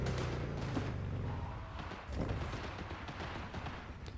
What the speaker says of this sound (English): Every time I come here, I hear gunfire.